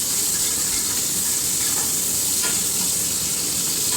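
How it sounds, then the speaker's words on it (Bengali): Sliced onions frying in oil give off a continuous close sizzle with a soft crackle underneath, steady and fairly loud, and no voices. "পেঁয়াজটাকে দিয়ে খুব ভালোভাবে পেঁয়াজটা লাল লালভাবে ভেজে নেব।"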